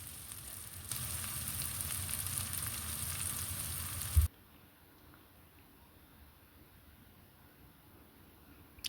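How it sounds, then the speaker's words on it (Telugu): Onions sizzle steadily in a hot pan with turmeric, a broad bright frying hiss that runs loud for several seconds before dropping suddenly to a faint, quiet crackle. "ఆనియన్స్ ఉంటాయి కదా, అవి అందులో వేసి మంచిగా ఫ్రై చేసుకోవాలండి"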